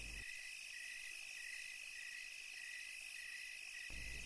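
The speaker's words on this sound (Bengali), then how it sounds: "বাহিরে শিরশিরে বাতাসের মধ্যে শুধুমাত্র ঝিঝি পোকাগুলো বেসামালভাবে ডেকেই চলেছে।" Crickets chirping at night in a cartoon scene, a continuous dense high trill at steady volume with no other sounds.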